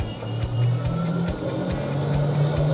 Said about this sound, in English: Now I will increase the duty cycle of the SRM motor